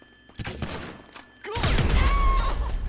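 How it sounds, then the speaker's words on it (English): A grenade explodes in GTA Online, a loud deep boom erupting after a few sharp gunshots and rumbling on to the end, with a voice speaking briefly. "Just a grenade."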